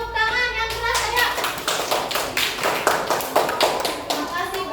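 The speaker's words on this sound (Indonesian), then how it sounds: "Beri tepuk tangan yang keras ayo." Schoolchildren clap loudly in an elementary classroom at SDN 2 Sumampir, a dense run of quick, uneven hand claps lasting several seconds with faint voices mixed in.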